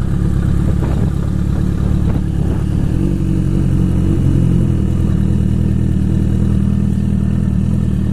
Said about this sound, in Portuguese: Deixa eu parar a moto.